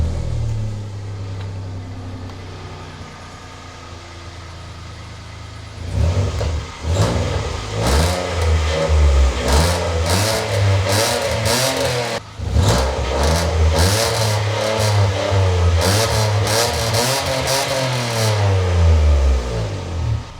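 A Toyota Aygo fitted with a new cheap exhaust starts from cold, then the small engine is revved repeatedly with rising and falling deep exhaust notes, loud and close throughout.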